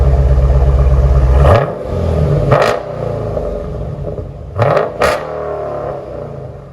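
A Dodge Challenger 6.4L HEMI Scat Pack with glass-pack exhaust idles loudly, then is revved in short bursts, its deep rumble rising and falling close by.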